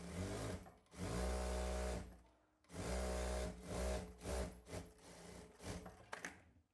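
A sewing machine stitches the seams of a pillow cover in a tailoring class, running in loud bursts of steady whirring that stop and restart, with short, quicker runs toward the end.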